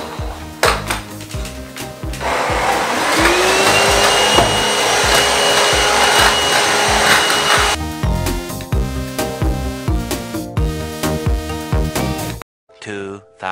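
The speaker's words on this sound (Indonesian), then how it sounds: "Kita bersihin pakai vacuum cleaner aja ya." A vacuum cleaner cleaning a bedroom floor whirs loudly and steadily for several seconds, with knocks and clatters before it and a run of rhythmic tapping and music-like beats after it stops.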